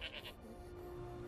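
A goat in the video game Skyrim gives a few short bleats at the start, faint against a steady ambient game background with a low hum.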